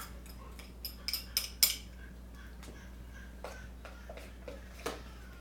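A spoon clinks and scrapes against a bowl while stirring manicotti filling of parsley, minced garlic, salt, pepper and oregano, with a quick run of sharp clicks early on, then softer, sparser taps.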